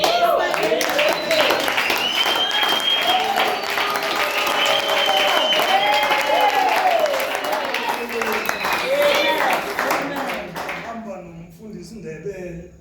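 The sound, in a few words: congregation applauding in church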